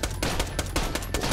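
Continuous rapid-fire gunshots from a gun in a video game, a steady loud stream of evenly spaced reports with no talking.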